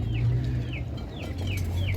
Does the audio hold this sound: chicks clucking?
yes